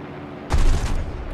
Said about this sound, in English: There's 2 Corsairs shooting at each other.